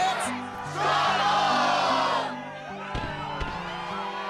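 A fired-up crowd cheers and whoops in the video game Kingdom Hearts 2.5 HD ReMIX before a Struggle match, a moderate swell of shouting voices over a steady game music bed, fading as the tune continues.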